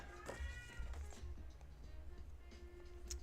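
A house cat gives a short, faint meow early on, then quiet rustles and small taps follow in a calm indoor room.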